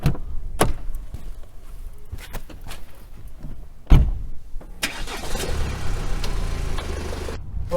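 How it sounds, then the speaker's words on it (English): A car door thuds shut, followed by an engine starting and settling into a steady idle, loud and close, with no talking, on the way out to check a sugar beet field. "I'm just going to go jump in my car"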